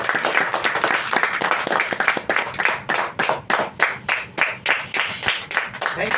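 Audience applause breaks out in a hall as listeners are asked to clap for someone, starting as a dense patter and thinning into rhythmic, synchronized claps that grow louder toward the end.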